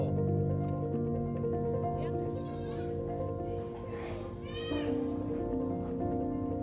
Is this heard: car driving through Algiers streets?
no